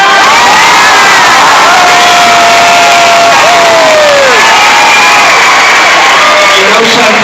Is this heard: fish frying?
no